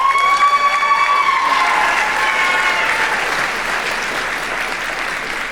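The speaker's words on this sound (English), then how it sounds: "Do your hands hurt from clapping yet?" A crowd at a university graduation ceremony applauds with dense, sustained clapping and some cheering. The sound is loud at first and gradually eases while staying strong throughout.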